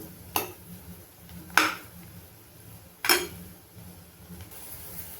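Onion, curry-leaf and fenugreek-seed hair oil being stirred in a pot: three distinct metallic scrapes and clinks of a spoon against the pot, spaced out over a low, steady simmer.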